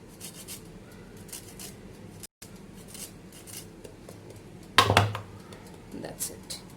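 Lemon zest being grated by hand for an eggless tea cake, producing soft rhythmic scraping and rubbing strokes with a sharper metallic clatter midway, close by, heard under steady talking.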